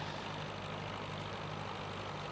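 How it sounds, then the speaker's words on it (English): A 60-plus-year-old Little Grey Fergie tractor working a steeper section of a tractor run, its engine giving a steady, low, chugging idle-like hum that holds at an even level without breaks. "Showing how it's done on the steeper section in Little Grey Fergie"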